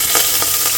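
Ginger garlic paste sizzles hard in hot oil and ghee with whole garam masala inside a cooker, a dense, steady crackling hiss filling the short moment, close and loud.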